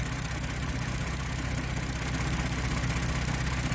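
A Hyundai Genesis Coupe running a MoTeC M150 engine controller sits idling in a garage, giving a steady, even, low engine drone with no change in pace and no voices.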